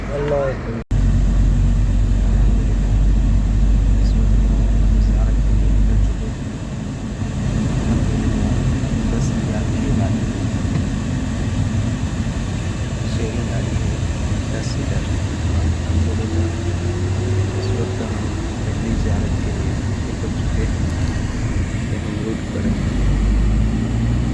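Inside a moving 10-seat van in Madina, a steady loud low engine and road rumble drones throughout, with people talking over it.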